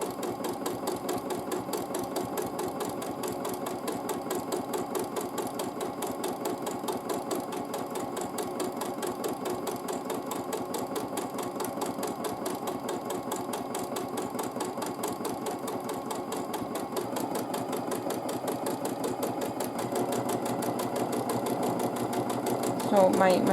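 A sewing machine runs steadily, stitching precise back-and-forth lines across fabric for a grid texture. A fast, even mechanical whirring patter continues throughout and grows slightly louder toward the end, with a person talking over it.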